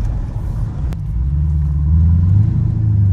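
A Porsche Panamera engine idles with a deep, close rumble, then builds slightly louder toward the end as the revs rise.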